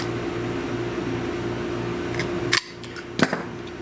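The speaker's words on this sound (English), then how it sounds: "we're just going to take our knife, just for aesthetics, and we're going to kind of cut that off." A knife trims excess material from a carburetor gasket on a 40-year-old Briggs and Stratton engine. Two short, sharp snipping clicks stand out over a steady mechanical hum.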